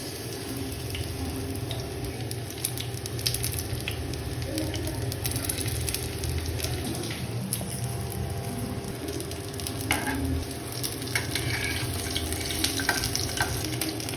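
Chicken pakora pieces frying in hot oil at home, a steady close sizzle and bubbling that runs unbroken throughout with small crackles and pops.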